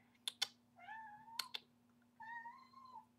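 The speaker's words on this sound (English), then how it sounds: "Don't meow at me." A cat meows twice, a short rising call then a longer drawn-out one, with a few sharp clicks like keyboard taps in between, fairly close and quiet.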